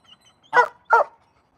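Two quick, clear barks from a nearby dog, evenly spaced, with faint soft sounds before them and silence after.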